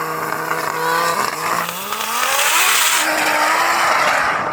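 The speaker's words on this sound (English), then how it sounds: "Let's get into the drag racing." A Lamborghini Huracan and a Rimac Nevera drag racing, a loud close engine roar rising in pitch through successive gear changes with a whining drive note, continuous and intense.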